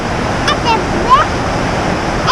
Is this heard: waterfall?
yes